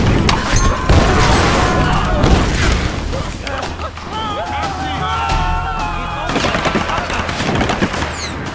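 Gunfire crackles through a firefight in Tomb Raider, dense bursts of shots and impacts mixed with crashing debris and bow sounds, loud and near, with voices talking throughout.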